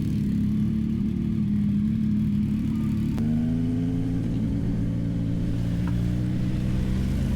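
Ducati Multistrada V2S motorcycle riding out, its engine running with a steady whir and a clear rise in pitch as the bike accelerates partway through, loud and close throughout.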